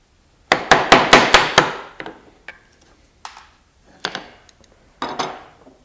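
A chisel chops into wood to cut notches for a side table. Six quick, sharp knocks come in a steady rhythm, followed by a few sparser single strikes, all close and crisp with silence between the later hits.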